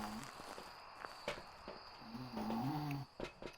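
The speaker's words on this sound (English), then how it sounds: "I hear somebody snoring." Someone snores in a dark, quiet room, slow rasping breaths rising and falling at moderate distance amid faint rustles and thuds, with no clear speech.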